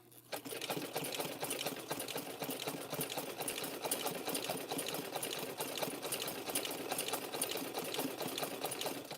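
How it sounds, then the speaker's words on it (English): A sewing machine runs continuously while stitching rope, a rapid even needle clatter held close and steady throughout with no voices. "Let your sewing machine do most of the work."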